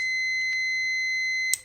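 A continuous high-pitched electronic beep holds steady, close and piercing, then stops abruptly with a small clatter.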